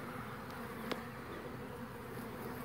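Honey bees buzz inside an opened nucleus hive during early spring inspection, a dense, steady droning hum close by with a few individual bees whining past, continuous and agitated.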